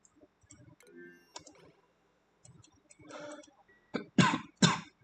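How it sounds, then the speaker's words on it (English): A person nearby coughs several times in scattered, uneven bursts, the last two sharp and loudest, with small clicks and throat sounds between them and no talk. "Sorry about the coughing."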